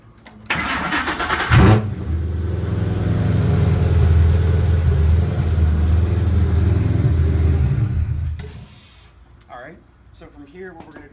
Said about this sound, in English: we're gonna fire the car up just on the stock ECU